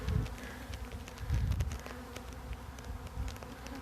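A dense swarm of honeybees buzzes close by near a hive super, a continuous drone that swells in two brief louder bursts, with no one talking.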